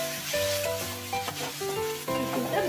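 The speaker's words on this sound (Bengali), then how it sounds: "ভালো করে ভেজে নিচ্ছি।" Onion, tomato and garlic paste sizzling and frying in a pan, a steady loud hiss with stirring scrapes throughout, while tonal background music plays underneath.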